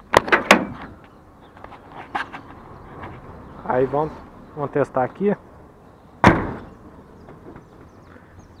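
A truck cab door on a 608 truck with a newly replaced door striker swings shut with one sharp, close latching thud, after a few softer knocks and bumps and a man's speech.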